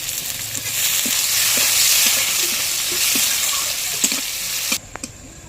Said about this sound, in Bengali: আর গোটা গরম মশলা পেঁয়াজ কুচি আর হচ্ছে দুটো রসুনের কোয়া কুচি করেছি দিয়ে সেটাকে এখন ভালো করে ভেজে নিব